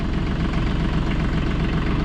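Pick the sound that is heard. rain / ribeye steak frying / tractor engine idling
tractor engine idling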